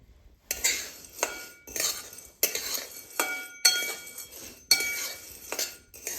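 Chana dal and moong dal are dry roasted together in a pan, with a utensil stirring the dry lentils in repeated metallic clinks and rattling scrapes about once a second, close and fairly quiet, with no talking.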